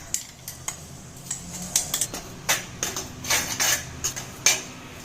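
A spoon scrapes and clatters against a pan as ground masala is stirred into cooked gongura greens, a run of close, irregular metallic knocks and scrapes, with no one speaking.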